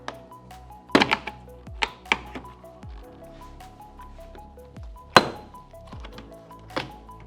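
Plastic trim panel being pushed free from a Tesla Model S fascia, producing a series of sharp snaps and clicks spread across several seconds, close and fairly crisp against a quiet background.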